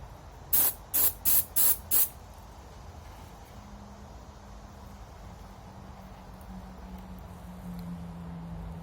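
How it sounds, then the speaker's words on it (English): Five quick, loud hissing blasts of spray as Durablue coating goes onto Savage/Fox Model B shotgun parts, evenly spaced within about two seconds, followed by a faint steady hum. "Let's go ahead and get this sprayed."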